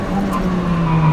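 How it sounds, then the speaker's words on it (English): Lotus Exige 240S lapping the Nordschleife, a steady close engine drone with a constant tone and a faint hint of tyre scrub, no voices. "we're in the Lotus Exige 240S, probably one of Lotus's best cars made in recent times"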